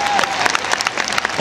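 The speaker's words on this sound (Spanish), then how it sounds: "un aplauso para Roberto Alegre" Lively crowd applause at a bull fiesta arena, a quick burst of many hands clapping with faint cheers and a brief whistle, fairly close and loud.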